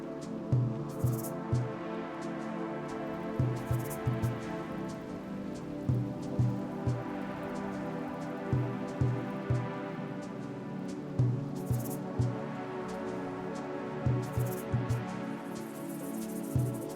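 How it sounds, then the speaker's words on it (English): Steady rain patters in the RimWorld colony game, a continuous wash with soft rhythmic thumps recurring throughout and no voices. "And it's raining."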